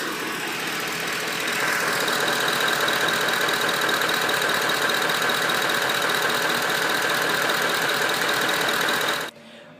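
A Ford 5.4-liter 3-valve V8 idles steadily with a rapid, metallic ticking knock from a faulty camshaft phaser running through it, loud and continuous before cutting off abruptly near the end.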